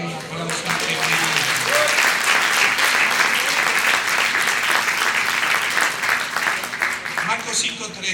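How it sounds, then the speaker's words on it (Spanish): A church congregation applauds during a sermon, loud sustained clapping from many hands that swells quickly and holds steady, with faint cheers and voices mixed in. "Dale un aplauso a"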